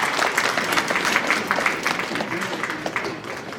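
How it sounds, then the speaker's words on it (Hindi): An audience at a convent cultural program applauds briefly, a close, steady patter of clapping hands with no voices over it. "आइए हम तालियों के साथ मदर जनरल का धन्यवाद करें।"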